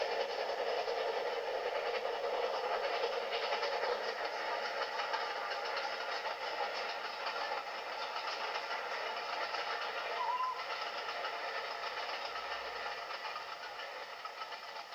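A Scottish steam train on the West Highland line, a steady rumbling rail and engine noise heard from some distance, continuous and fairly even for the whole stretch with no voices.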